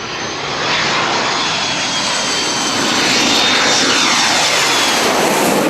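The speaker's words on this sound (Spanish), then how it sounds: "pasa el avión por encima" An airplane passes low overhead above houses near a city airport, its engine roar swelling steadily and staying loud and close throughout, with no voices.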